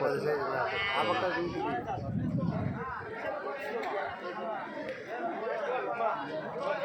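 Large goats at the Kadiri goat and sheep market bleat now and then, partly buried under constant crowd chatter and people talking nearby.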